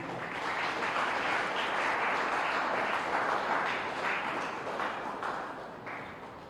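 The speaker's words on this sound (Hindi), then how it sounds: "तालियां साथ में आप भी बजा दीजिए।" Audience at a Hindi poetry gathering applauding to welcome a poet, a dense wash of clapping that swells, holds steady, then gradually fades near the end.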